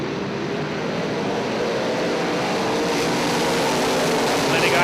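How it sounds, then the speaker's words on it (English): UMP modified race cars at Eldora Speedway in Rossburg, Ohio, roaring continuously as a pack accelerates on the dirt oval, a loud dense engine drone filling the whole stretch with no pauses. "Lenny Guyton, that 74 machine, quick on the throttle"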